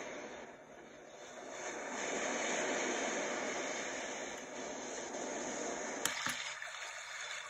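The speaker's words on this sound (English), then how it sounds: "Ocean waves." Ocean waves setting on a Homedics SoundSleep white noise machine, a broad rushing wash that slowly swells and recedes, ending with a pair of sharp clicks, no voices.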